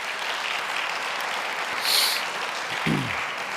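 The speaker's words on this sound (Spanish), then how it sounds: "Den un aplauso a Dios si lo quiere hacer" A church congregation applauds during a worship service, a steady wash of clapping filling the room at moderate volume, with a brief voice or whistle-like tone rising through it near the end.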